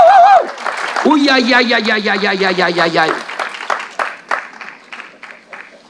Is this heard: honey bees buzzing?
no